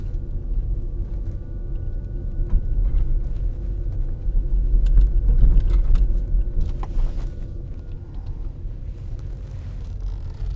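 Ford Mustang Mach-E driving along a road, heard from inside the cabin as a steady low rumble of road and tire noise with faint mechanical ticks, continuous for the whole stretch.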